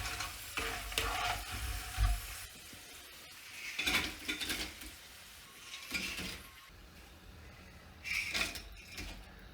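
Tapioca chips frying in hot oil in a pan: a soft, continuous sizzle broken by several louder bursts of stirring and scraping, with no voices.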